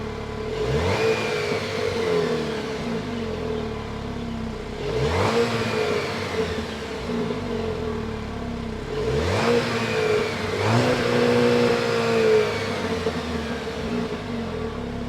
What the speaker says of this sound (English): that was the sound of the 2-liter turbocharged 4-cylinder engine sold by Jeep for the 2025